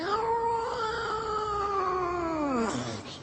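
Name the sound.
voice imitating a second cat meowing nearby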